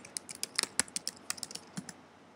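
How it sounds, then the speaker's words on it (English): A password is typed on a computer keyboard: a quick, uneven run of about fifteen light, crisp key clicks heard close and alone, trailing off into quiet. "type in your password"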